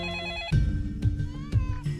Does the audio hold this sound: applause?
no